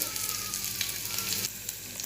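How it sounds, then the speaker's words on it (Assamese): Onions fry in hot oil with a steady, close sizzle and faint crackling, interrupted by a brief stir partway through. "এতিয়া মই ইয়াতে পিঁয়াজখিনি দি দিম"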